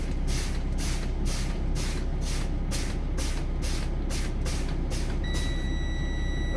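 Truck air brakes pumped repeatedly in a CDL brake test, about a dozen evenly spaced hissing bursts over a steady engine rumble, followed by a continuous high-pitched low-air warning buzzer near the end.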